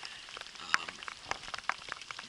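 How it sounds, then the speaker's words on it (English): Light rain falls during a river survival trip, heard as faint, irregular patters and small drops tapping on a nearby surface in a quiet, steady outdoor setting. "but it's raining and it's terrible"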